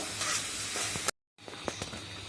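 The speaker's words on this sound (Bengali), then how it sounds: "ভালো করে আমরা মশলাটা কষাচ্ছি" Spices and chilli sizzle and hiss as they are fried and stirred in hot oil for a fish kebab (foli fish), a steady crackling fry broken by a brief silent gap before resuming with a few sharper pops.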